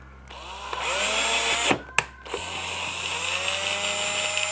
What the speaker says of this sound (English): I'm going to the lowest power setting on my drill